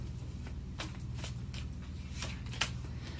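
Tarot cards handled and drawn from a deck during a Pisces reading: soft scattered shuffling and sliding swishes with a few sharper snaps, close and moderately quiet over a steady low background hum.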